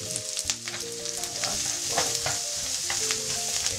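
Beef cheek sears in a hot pan with a steady, loud sizzle and crackle, punctuated by occasional scraping stir strokes and spatters, close up and without talk.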